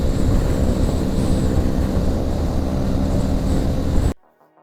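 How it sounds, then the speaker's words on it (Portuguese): A Honda CG motorcycle engine screams at 110 km/h on the road in a loud, steady droning roar mixed with heavy wind rush, then cuts off abruptly at the end. "podemos ouvir o motor da CG gritando a 110 km por hora"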